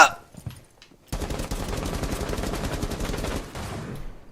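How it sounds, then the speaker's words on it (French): Rainbow Six Siege gunfire, a sudden sustained burst of rapid automatic shots lasting a few seconds, loud and close, after a brief quiet moment with a short exclamation at the start. "Je tire vraiment"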